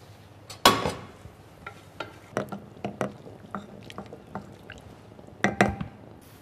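Hot chicken broth is poured into leek soup in a pot, making soft splashes and drips with a few sharper clinks of utensils against the pot, fairly quiet and close. No one speaks.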